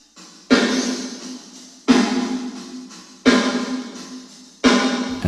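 Only the reverb of a snare drum is heard, through a room-style ChromaVerb setting: four evenly spaced hits, each blooming into a washy tail that decays over about a second before the next strike.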